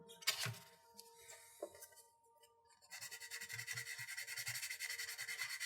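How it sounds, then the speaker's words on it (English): A plastic part from an MG Wing Gundam model kit is sanded close by to take off a mold line, with a few scrapes and clicks first and then a quick, even back-and-forth rasp. "Yeah, definitely have to do some sanding on this guy."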